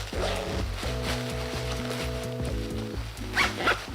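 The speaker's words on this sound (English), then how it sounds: "like a pretty smooth zipper" A costume's side zipper is drawn along in short, uneven pulls, each pass a textured rasp. A few faint clicks come near the end.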